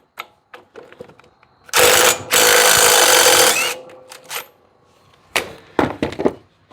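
Ratchet wrench working on the pulley of an Ariens zero-turn mower during a hydro pump repair; two long loud bursts of rapid clicking and grinding, followed by scattered sharp metallic knocks and clunks close by.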